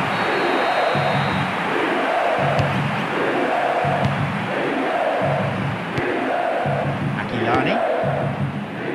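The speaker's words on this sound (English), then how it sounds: "The crowd starting to get impatient now." A stadium crowd in World Soccer Winning Eleven 2012, during an AC Milan vs Inter match, roars steadily with a rhythmic chant swelling and falling in regular waves.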